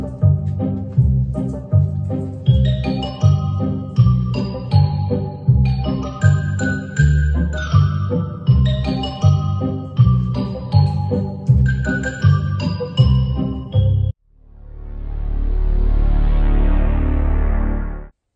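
A Halloween smart-speaker skill plays a track of plinking, bell-like notes in a steady bouncing rhythm, then ends on a swelling rumbling sound effect, with no voices.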